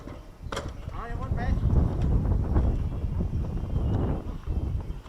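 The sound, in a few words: strong wind blowing outdoors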